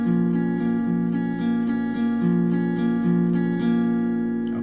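Picked electric or acoustic guitar arpeggio pattern for the intro of a song, a steady rolling stream of single notes over sustained chords, close and even in level with no talk.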